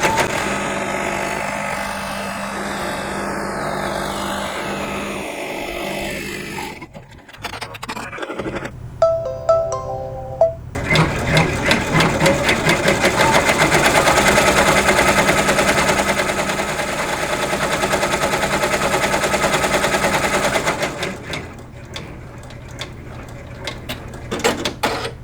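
Computerized embroidery machine stitching a Calico Garden Forget Me Not quilt block, a loud rapid mechanical needle chatter running steadily for long stretches, with brief pauses and a few electronic beeps partway through.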